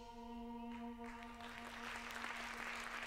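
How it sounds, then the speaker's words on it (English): Applause rises from under a sustained harmonic drone tone, building into a dense, rushing patter of clapping that continues to the end. "putting his hands together in delight, invented applause"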